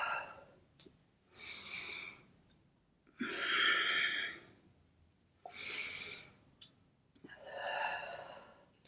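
Slow, audible breaths during a yoga session, five long airy exhalations and inhalations of a few seconds each, evenly spaced and close to the microphone, with no speech.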